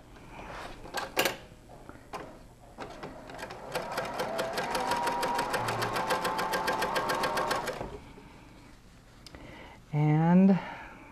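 A sewing machine stitches quilt quarter-circle sections, running in a fast, even rattle of needle strokes for about four seconds, preceded by a few scattered clicks and followed by a brief high whir, with a voice speaking faintly near the start.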